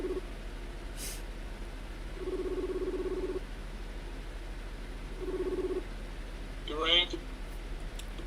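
A telephone call rings out on the line: two long, even ringback tones separated by a pause, faint against a quiet hum, followed by a short chirpy blip near the end.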